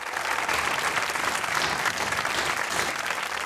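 Sustained, dense applause from a mushaira audience welcoming the next poetess, loud and continuous throughout with no speech over it.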